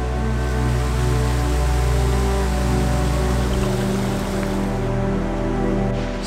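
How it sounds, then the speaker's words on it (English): Steady rushing white water roars continuously from a valley creek below in the Scottish Highlands, a dense broad wash, with no talking. "that is the sound of the water below"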